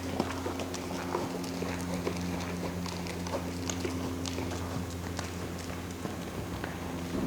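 During a riding lesson, a horse trots and its hooves clip-clop in a steady rhythm, moderately close, over a constant low hum and background noise.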